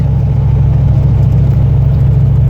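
A car engine hums at a low, steady, loud drone from inside the cabin while driving, with no voices.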